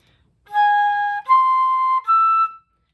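A flute plays a phrase: a short held tone followed by two longer sustained half notes, clean and close with brief gaps between them, no voices.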